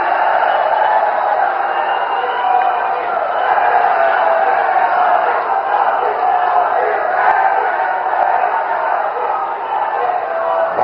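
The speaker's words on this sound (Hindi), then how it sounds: "आपकी जोरदार तालियों के साथ" Large crowd at a Prime Minister's rally in Kanpur, a dense steady roar of applause and cheering that fills the whole stretch at high volume, sustained without a break.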